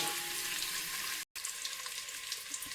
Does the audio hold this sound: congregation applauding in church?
no